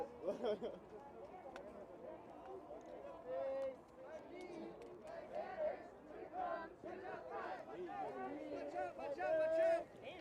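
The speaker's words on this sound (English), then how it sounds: "There's a big scary crowd." A large, tense street crowd chatters and shouts during a confrontation with Chicago police officers, with overlapping voices near and far and occasional louder calls rising above the murmur.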